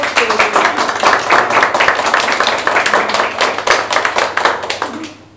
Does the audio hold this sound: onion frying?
no